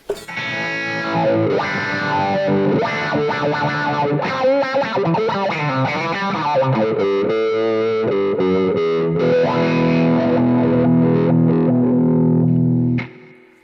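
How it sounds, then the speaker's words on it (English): Electric guitar run through an overdrive pedal and a wah-wah pedal, playing continuous distorted phrases with sweeping, vowel-like filter swells, loud and steady throughout before stopping abruptly near the end. "Next, I will engage the wah-wah pedal."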